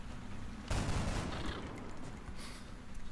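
Gunfire from XCOM: Enemy Unknown, a burst of shots that erupts loudly and then trails off into a lingering rumble, with no talk over it.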